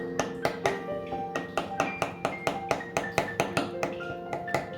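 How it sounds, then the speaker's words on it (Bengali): Fork tines tapping and poking holes into a fresh snake gourd on a plate, a steady run of sharp, close clicks and taps roughly every few tenths of a second, with faint ringing overtones. "কাঁটা চামচ দিয়ে ফুটো করে নিচ্ছি।"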